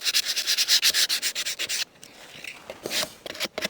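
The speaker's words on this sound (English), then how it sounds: "When you're sanding something, you always want to go with the grain" Sandpaper rubs by hand along the wooden slats of a garden swing in quick rhythmic strokes, then pauses briefly before a few softer scrapes.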